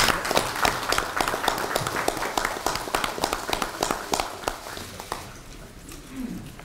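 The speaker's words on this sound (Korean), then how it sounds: "박수 한번 보내드릴까요?" Applause from an audience at a Democratic Party supreme council meeting, dense and steady at first, then thinning into scattered claps and fading toward the end.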